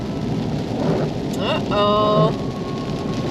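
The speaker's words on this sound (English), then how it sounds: "so we'll have a fun setup in the rain" Rain drums on a vehicle during a thunderstorm, a steady close patter with a low rumble swelling beneath it, while a brief squeaking sound and a short spoken remark cut through.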